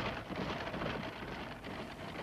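Rain pours steadily through a stormy night in the mountains of Transylvania, a dense, constant hiss with low rumbling beneath, heard alone as the soundtrack of a 1977 Japanese anime.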